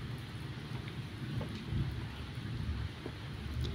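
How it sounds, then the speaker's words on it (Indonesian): Steady rain falls outdoors with low rolling thunder rumbling beneath it. The sound is faint and continuous, and the thunder swells briefly midway. "lagi hujan, ada suara gluduk"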